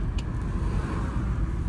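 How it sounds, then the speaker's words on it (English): Steady roadway traffic passes close by near an apartment complex, a continuous loud low rumble of cars with no clear gaps between vehicles. "here comes the cars as I approach my apartment complex"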